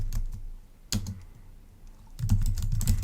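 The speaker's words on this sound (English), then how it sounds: "I'm going to type in a new name for this" Close computer keyboard typing in two short bursts of quick clicking keystrokes, separated by a brief pause, with no voices.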